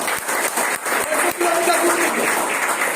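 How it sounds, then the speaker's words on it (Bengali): A crowd at a celebration breaks into sustained applause, a thick, even wash of clapping that holds steady throughout, with occasional louder individual claps. "জোরদার হাততালি।"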